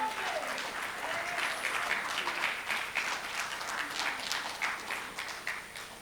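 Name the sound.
applause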